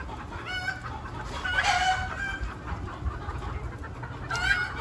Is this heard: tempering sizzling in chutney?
no